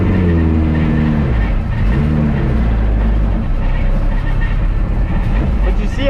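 A Honda CRX accelerates in third gear, heard from inside. A loud, rumbling engine rises in pitch over the first second, then holds a rough, steady drone throughout.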